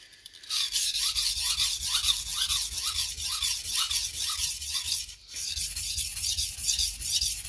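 A Japanese gyuto knife is sharpened on a whetstone in steady back-and-forth strokes. The gritty scraping rasp repeats about twice a second and is heard close and alone, with one short pause near the end.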